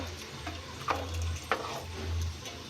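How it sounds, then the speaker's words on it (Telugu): Yogurt stirred into pulao inside a pressure cooker, a spoon scraping and squelching through the sizzling mixture in a few distinct strokes, close and clear with no talking. "ఇప్పుడు స్టిర్ చేసుకుంటున్నాము"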